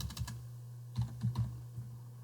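A username and password typed on a computer keyboard, a few quick close key clicks in small clusters over a steady low electrical hum.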